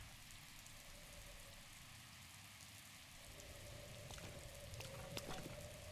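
Rain falling in the open world of The Legend of Zelda: Breath of the Wild, a steady soft hiss that grows a little louder and denser partway through, with faint game tones sounding over it.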